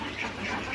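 Black Campbell ducks on a farm let out a short, raspy burst of quacking that fills the brief moment at close range.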